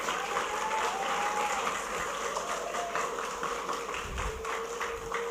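An audience at a school gathering for MTs Negeri 4 Karanganyar breaks into sustained, dense applause, many hands clapping together fairly loudly with no voices over it.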